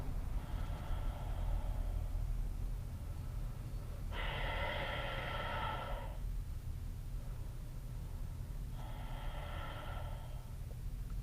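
Slow, deep breathing during a yoga flow, with long airy breaths drawn in and out at an even pace, heard close over a low background hum.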